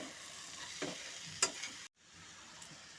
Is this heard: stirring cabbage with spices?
yes